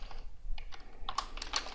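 Keys on a computer keyboard are tapped in short, uneven bursts while text is typed onto a web page, close and fairly quiet, with no one speaking.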